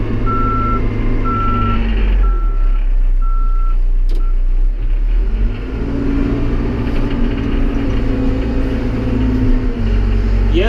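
A backhoe working gravel with a truck engine rumbling and revving; a series of regular reversing beeps sounds early, then stops, while the engine keeps going loud and close throughout.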